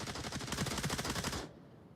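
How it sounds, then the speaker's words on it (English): Rapid automatic gunfire from a tactical shooter video game, a dense burst of shots in quick succession, loud and close, that stops abruptly before the end. "Lots of gunshots going out this round."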